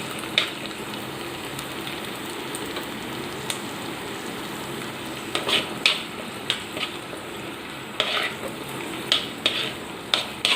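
Chili powder, ginger and garlic sauté in oil for a Kottayam-style fish curry, a soft steady sizzle with intermittent sharper crackles and stirring scrapes, close and moderately loud with no voices.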